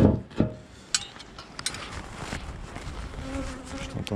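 Bees buzzing around a small swarm in a ten-frame hive on a February day, a soft close hum with individual insects passing near and away, plus a few knocks and clicks.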